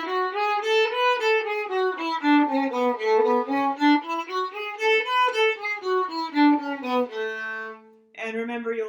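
A major scale played up and down to the ninth, twice through, on a single melodic instrument; clear stepwise notes rise and fall at an even pace, ending on a held tone before a brief restart.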